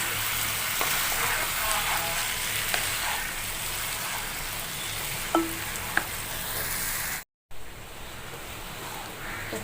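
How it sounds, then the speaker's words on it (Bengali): Boiled dal with potatoes and spices stirred in a pan, a steady broad sizzle with occasional soft spoon scrapes and a brief gap near the end. "দিয়ে একটু নাড়াচাড়া করে নেব।"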